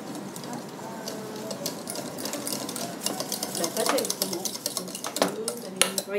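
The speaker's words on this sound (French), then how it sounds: "vous incorporez les 200 g de farine. Et vous mélangez bien." A spoon stirs flour into melted butter in a saucepan, making repeated scraping clinks against the metal pan in an irregular rhythm, with a person talking over it.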